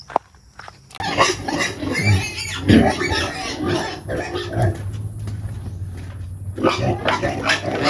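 Pigs on a farm squeal and grunt at morning feeding time, with loud repeated squeals and snorts close by over a steady background of animal noise.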